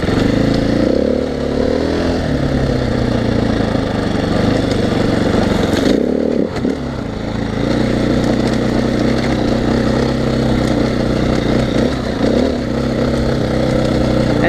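A 2015 Husqvarna FE 501s dirt bike engine drones loud and close throughout while riding, its pitch rising and falling with throttle changes and a brief dip midway.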